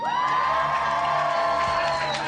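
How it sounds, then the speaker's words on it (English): Crowd cheering and whooping at a pizza world record attempt, a loud sustained roar of many voices with rising shouts throughout. "the crowd reaction that is going to get Bob Bloomer to a new Guinness World Record"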